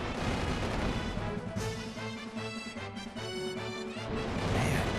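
Fire-attack effects from a Final Fantasy II battle, a dense run of crashing, booming blasts with a repeating low thud pattern, loud and continuous over the whole stretch.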